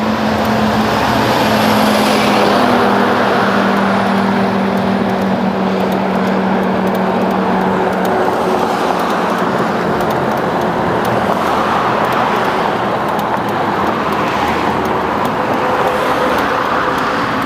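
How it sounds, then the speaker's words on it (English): Steady car traffic rolls along a three-lane Toronto street with parking, a loud continuous roar of passing vehicles with engine hum and tire noise, some louder pass-bys standing out, with no voices. "But at least they have 3 lanes of car traffic plus parking."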